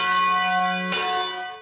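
An abbey's bell tower church bell: its ringing tone hums steadily and loud, then a fresh strike lands partway through and leaves a long, rich ring that slowly fades. No voices are heard.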